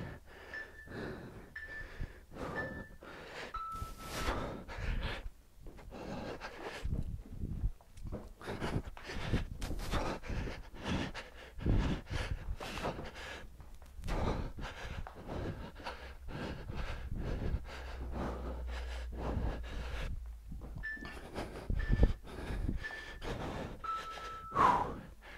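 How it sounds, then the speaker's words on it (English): Heavy, rhythmic breathing and panting from someone exercising through a mat, step and rope workout, with snorts and gasps repeating close up over steady background noise. "Nice deep breaths."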